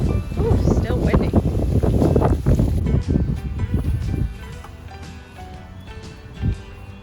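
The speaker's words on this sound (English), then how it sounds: "Ooh, still windy." Gusty wind blows after a tropical storm, a loud rumbling buffet against the microphone for about four seconds, then easing to a lighter breeze with a brief later gust. A voice speaks over the early gusts.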